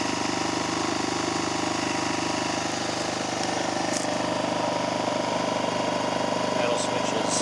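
A new Ryobi RYi2200 inverter generator, started moments earlier on its first run, drones in a steady, even hum with a light mechanical rattle and no change in pace.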